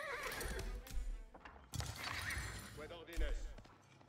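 Horses in the Age of Empires IV video game neigh and whinny amid clip-clopping hooves and battle clatter, several calls across the clip at moderate level with game noise underneath.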